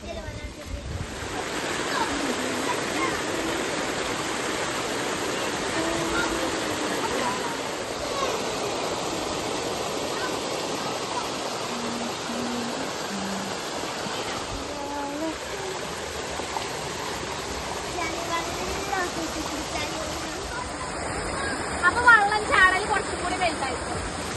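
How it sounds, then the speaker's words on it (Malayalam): A small waterfall makes a steady, close rush of falling water that continues the whole time, with people talking over it now and then. "ഇതാണ് നമ്മളെ മിനി വാട്ടർഫാൾസ് അല്ലേ"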